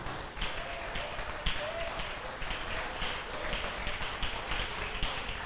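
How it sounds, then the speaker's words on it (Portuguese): Standing church congregation claps for Jesus at the end of a sermon, steady many-handed clapping at moderate distance, fairly soft and continuous, with faint voices mixed in. "pode aplaudir Jesus."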